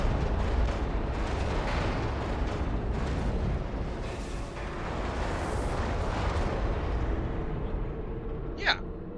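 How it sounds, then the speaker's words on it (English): An explosion in the video game Portal, heard as a loud, sustained rumbling blast roar that persists throughout, with a brief sharp sound near the end. "Look at the pretty explosion"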